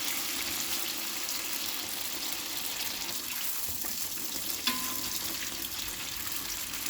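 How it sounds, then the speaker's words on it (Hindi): Bhatura dough fries in a pan of hot oil, giving a steady close-up sizzle and bubbling hiss with one small splash or clink near the end. "और ऊपर का तरफ जो इसका है ना उसको नीचे रखिएगा और तेल में डाल दीजिएगा"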